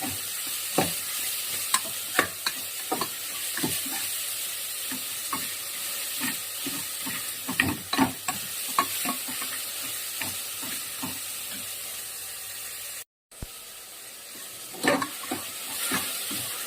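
Chopped tomatoes fry in a pan with rock salt and turmeric, a constant soft sizzle broken by irregular scraping strokes of a spoon stirring the mixture, close and moderately loud, with a brief dropout near the end.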